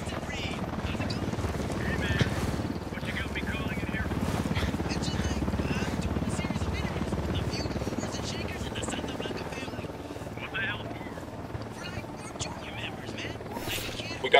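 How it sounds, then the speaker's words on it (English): In the Ghost Recon video game, a helicopter's rotor thrums continuously under busy in-game combat sounds. "We need that chopper."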